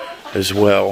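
A Jersey Giant chicken gives a drawn-out, harmonic cluck close to the microphone in a backyard chicken run, rising then falling over about half a second, with someone briefly speaking just before.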